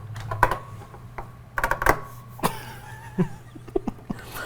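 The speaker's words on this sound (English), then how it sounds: "I like how very empty and hollow the keyboard sounds, the mechanical." Sparse, irregular keystrokes clack on a mechanical keyboard, close and hollow-sounding, with short pauses between bursts.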